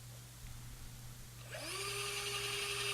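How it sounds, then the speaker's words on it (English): An electric drill starts boring through the fret slots of a guitar fretboard, its steady whine rising after a quiet workshop hum and holding close and loud to the end. "Here I'm drilling through a couple of fret slots"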